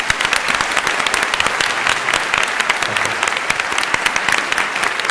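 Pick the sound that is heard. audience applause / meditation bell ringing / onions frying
audience applause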